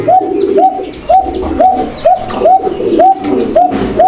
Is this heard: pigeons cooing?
yes